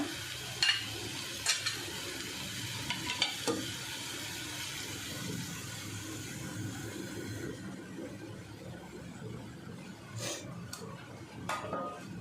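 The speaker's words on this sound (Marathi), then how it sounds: "आता आपण टोमॅटो टाकून घेऊया" Tomatoes sautéed with masala, green peas and potatoes in a pan, a low frying sizzle with a few sharp clinks of a spoon against the pot as it is stirred, no voices.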